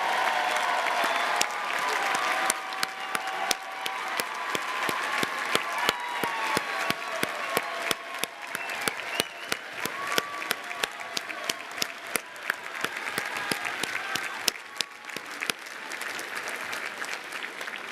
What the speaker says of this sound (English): And now, stand up and cheer for you and all of your classmates.